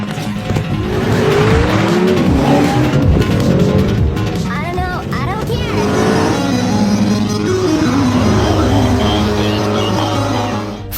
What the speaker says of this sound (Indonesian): lalu tancap gas untuk menghindari kejaran mereka